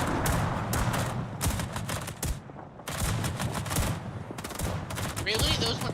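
Rapid bursts of naval gunfire from World of Warships, salvos of ship cannons booming in quick clustered volleys with brief gaps between, loud and close, with short pauses of quieter sea ambience.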